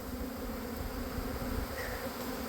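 Honey bees fly around hives at an apiary with almond-semi colonies, a dense continuous buzzing hum filling the air, steady and close with no voices.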